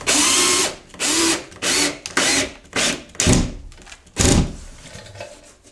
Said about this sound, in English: So as I screw in this corner, it's going to suck it up.